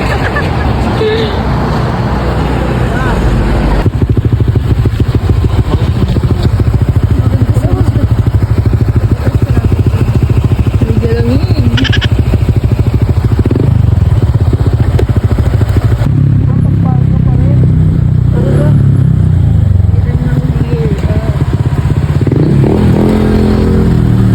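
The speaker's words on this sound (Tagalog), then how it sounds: "Sa part na yan, kanya-kanyang hataw sila ng motor dahil sobrang luwag ng daanan." A motorcycle engine drones loudly and continuously at close range while riding in a group near Bagac, Bataan at night, with wind buffeting and shifts in engine pitch, and some voices faintly underneath.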